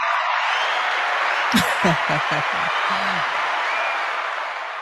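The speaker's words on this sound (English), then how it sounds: "Let's give a hand claps to the Fulton" Hand claps and crowd noise from an audience on a talk show form a steady, broad wash throughout, while someone speaks briefly over the middle of it.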